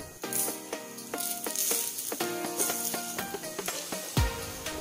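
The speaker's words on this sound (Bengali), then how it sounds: "ফোড়নের জন্য আমরা দিয়ে দেব 1 চা চামচ সর্ষে, 2 শুকনো লঙ্কা," Mustard seeds, dried red chillies and bay leaves sizzling and popping in hot mustard oil in a kadai, a steady close crackle with rapid spitting pops, and a metal scrape near the end.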